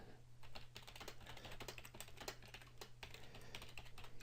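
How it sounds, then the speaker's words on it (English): Quick, continuous typing on a computer keyboard with a steady patter of key clicks and a few heavier strikes like the enter key, close up over a low constant hum. "Again, press the enter key, and finally one more line"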